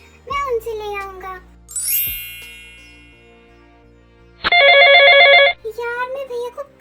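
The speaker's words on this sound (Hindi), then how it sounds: "यार मैं भैया को कब से कॉल कर रहा हूँ, ये कॉल रिसीव क्यों नहीं कर रहे हैं?" A phone rings on an unanswered call with a loud, bright electronic ringtone burst of about one second, set between stretches of a young-sounding voice speaking and other short tonal sounds.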